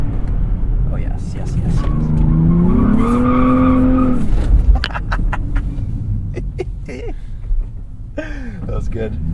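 A 2023 Nissan Z with a six-speed manual revs hard and climbs through the gears with a rising roar, then backs off with crackles and pops, while someone talks over it.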